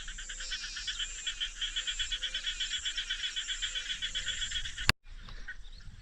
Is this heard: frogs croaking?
yes